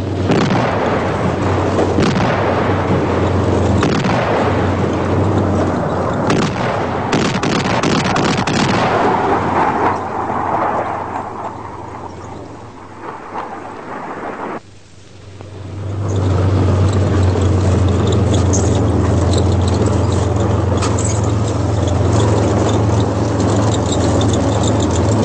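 Artillery fire and air strikes during the Shield-82 military exercise in Bulgaria, a long, loud, continuous rumble of distant booms and roaring engines that dips briefly midway, then swells back with a heavy low drone.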